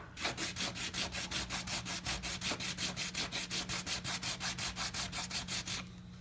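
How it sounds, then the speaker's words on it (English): Rapid, even back-and-forth rasping of sandpaper on a wooden half-hull boat model, a rhythmic scratchy stroke repeated about four times a second, close and steady, then stopping. "You're just sanding it smooth so it will lay on the plaque."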